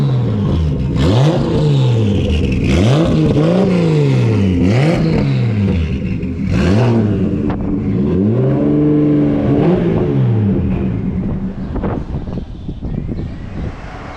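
A Nissan R32 drift car engine is revved repeatedly up close, loud rising and falling blips in a steady rhythm, settling toward idle at the end.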